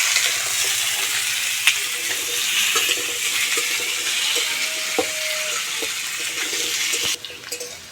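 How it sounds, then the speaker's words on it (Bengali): Onion, taro and potato fry in a pan while being stirred, a loud close sizzle with scraping stirs and occasional clinks that runs steadily before easing near the end. "এইভাবে নেড়ে চেড়ে পেঁয়াজটাও সুন্দর করে ভেজে নেব, আর কচু আলুগুলোও কিন্তু সুন্দর ভাজা হয়ে যাবে"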